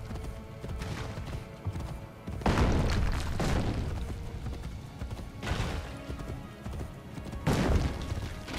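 Rhythmic hoofbeats of a galloping horse in Assassin's Creed Brotherhood, with heavy thumping bursts and game effects layered over a busy, continuous background.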